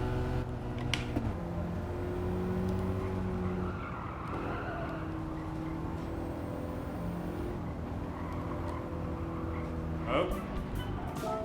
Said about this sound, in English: we're driving a 4-wheel drive car